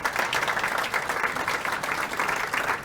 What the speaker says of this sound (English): So please give a round of applause to Tom and all of our staff.